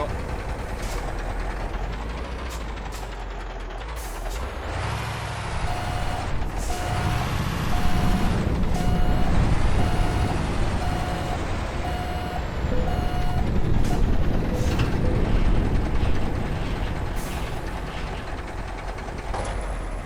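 A truck in Euro Truck Simulator 2 reversing to hook up a trailer: steady, evenly spaced reversing beeps over a rumbling engine, with hissing and mechanical noises swelling in the middle, close and clear.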